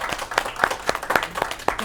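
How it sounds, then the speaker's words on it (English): A conference audience in Indianapolis claps, with sharp individual claps in a loose, uneven rhythm, close and fairly loud over a short burst. "everyone give Leslie a round of applause before she gets up here."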